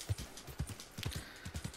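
A horse's hooves clip-clop at a brisk, even trot in Red Dead Redemption 2, a quick steady run of close, muffled thuds with no talk over them.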